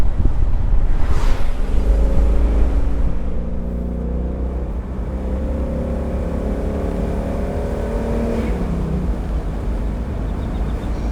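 A red 2019 Mustang GT with active exhaust cruises in quiet mode, giving a steady, subdued low engine drone with faint pitch shifts, wrapped in broadband wind and road rush. It is louder at the start and then settles at an even level, with no talking.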